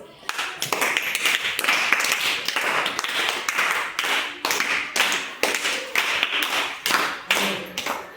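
A classroom of children bursts into rhythmic applause, a steady run of sharp, close hand claps lasting several seconds and filling the room.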